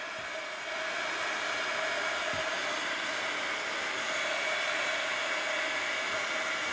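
Heat gun drying a collage art journal page, a steady loud whooshing blower that holds unbroken for the whole stretch with no voices.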